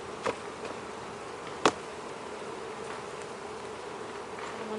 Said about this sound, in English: I'm gonna shake all the bees off of this and move this up to the super upstairs